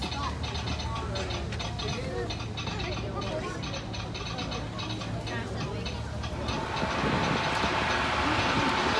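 A Disneyland park train rolls along its rails, a steady low rumble with faint rhythmic clatter that grows louder near the end, while people chatter over it.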